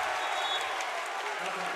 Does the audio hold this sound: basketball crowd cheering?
yes